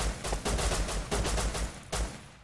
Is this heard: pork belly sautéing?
no